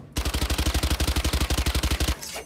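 Vandal rifle fire in Valorant: a fast, steady stream of about twenty loud, evenly spaced gunshots that ends abruptly, with a short echoing tail.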